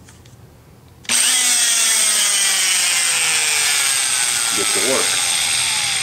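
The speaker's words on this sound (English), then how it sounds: "After the grinder action, doesn't take much." An angle grinder opening up the bolt holes in an LS-swap transmission adapter plate, starting abruptly about a second in and then whining loud, close and steady to the end, with a brief voice over it.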